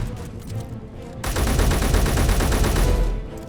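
Rapid automatic gunfire from a Space Engineers base raid breaks out suddenly and roars loud and sustained for about two seconds, then cuts off, after a quieter stretch of low rumble.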